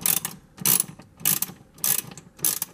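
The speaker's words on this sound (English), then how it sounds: "I'm just going to use this CRAFTSMAN 3/8 ratchet, old reliable with an adapter on it" A Craftsman 3/8 ratchet fitted with an adapter backs screws out of a leaf blower, making close, loud bursts of rapid pawl clicking in a steady rhythm of about five strokes.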